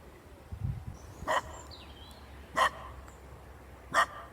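A dog barks three times at a steady interval, moderately near and fairly loud, in a garden beside a poly tunnel, with quiet background noise between the barks.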